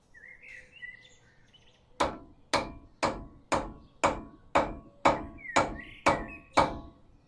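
A cotter pin bent over a nut on a square-body truck suspension with ten sharp, evenly spaced hammer strikes, close and loud, while birds chirp faintly in the background.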